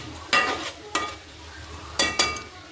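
Curry cooks in a pan with a low bubbling sizzle throughout, broken by four sharp, close utensil scrapes as it is stirred, with no voices.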